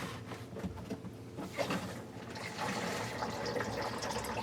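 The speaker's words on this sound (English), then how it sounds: "We can go ahead and turn the water back on." Water is switched back on to fill the return pocket of a jellyfish aquarium during servicing, a continuous pouring and gurgling trickle that grows slightly fuller toward the end.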